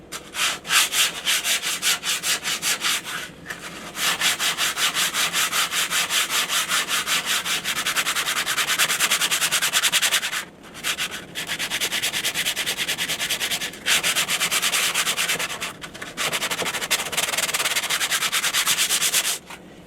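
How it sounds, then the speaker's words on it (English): Sanding the hardened skin of a boat under rebuild in winter, a loud, steady rubbing rasp that runs in long strokes with a few brief pauses between passes. "I'm going to give the whole thing a sand down just to key it as well, so that the paint will take to it."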